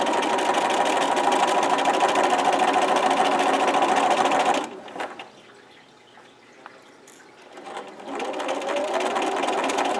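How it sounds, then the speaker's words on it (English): A sewing machine stitches through layers of pocket fabric, running steadily and loudly for several seconds, pausing briefly, then starting up again. "You're going to start sewing. You're going to back stitch on this one. And then just sew down."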